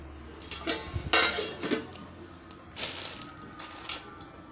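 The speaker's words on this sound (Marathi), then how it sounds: "आता एक फ्राईंग पॅन ठेवलं मी गॅसवर" A metal frying pan is set down on a gas stove in a home kitchen while making sabudana batata chakli, giving a few sharp clanks and scrapes amid faint kitchen clatter.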